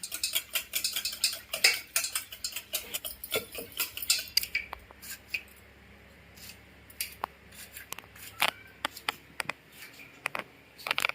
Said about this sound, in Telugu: రైతా కోసం నేను ఒక హాఫ్ లీటర్ పెరుగు తీసుకుని బాగా మనం బీట్ చేసుకోవాలి